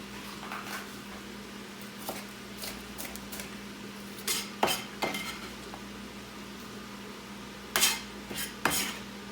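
A utensil scrapes and knocks against a pot of chili with chopped red bell pepper in irregular strokes while the food sizzles softly underneath, close up, with no voices.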